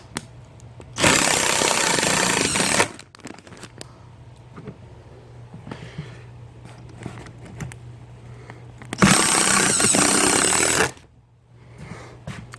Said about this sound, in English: all I'm doing is screwing them into the wall here.